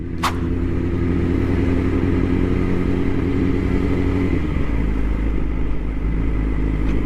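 A Yamaha motorcycle being ridden, its mid-pitched engine droning steadily and close, with the pitch shifting partway through as the throttle changes.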